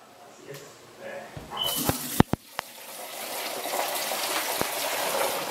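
Dirty mop water is poured out after mopping a house floor, a steady splashing gush running for several seconds with a few sharp knocks and clatters near the start, close and fairly loud.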